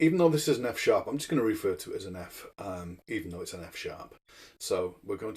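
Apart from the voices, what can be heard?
No distinct noise like a dog, phone or traffic.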